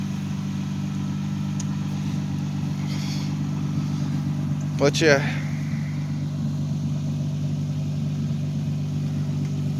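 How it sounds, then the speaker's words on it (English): A Toyota Solara engine idles with an updated exhaust, a steady low hum that runs evenly throughout, close by. Someone speaks briefly near the middle. "Engine is nice and quiet. You don't hear no ticks, no nothing."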